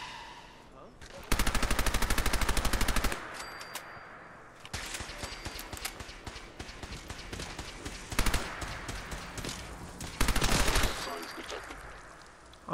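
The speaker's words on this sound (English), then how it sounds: "So here is the LMG," A modded light machine gun in Fallout 4 fires in loud sustained bursts of rapid automatic shots, broken by pauses filled with quieter game sounds.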